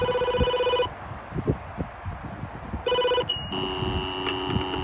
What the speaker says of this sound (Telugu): సో ఆ నెంబర్ ప్రెస్ చేస్తే సో వాళ్ళకి ఇంట్లో ఉన్న ఫోన్ అనేది మోగుతుంది.